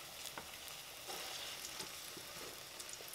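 Sweet plantains fry in oil in a pan, giving a soft, steady sizzle with occasional small pops, heard close and alone.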